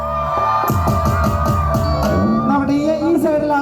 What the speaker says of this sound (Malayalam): എല്ലാവരും ഉറക്കൊന്ന് കൂവിയേ